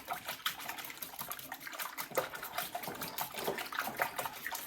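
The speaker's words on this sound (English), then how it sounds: "So I'm going to just whisk this around a little bit." Apple cider is whisked into wet donut ingredients in a bowl, giving quick wet sloshing and light rhythmic scraping strokes, close and fairly soft, with no talk.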